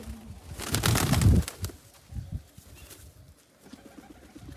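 Pigeons, newly bought American birds kept indoors in a bathroom, give soft low coos with a louder burst of fluttering and scuffling early on, close by, and no one talks.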